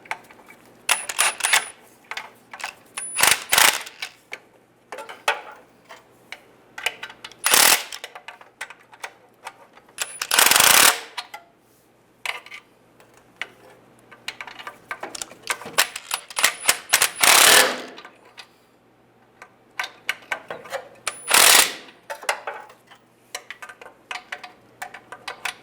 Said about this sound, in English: Now we're gonna tighten this in order, just go around, snug them all up